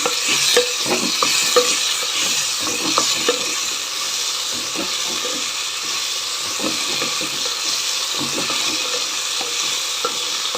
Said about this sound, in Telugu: ఇప్పుడు మళ్ళీ బెండకాయలు వేస్తున్నా దీనిలోకి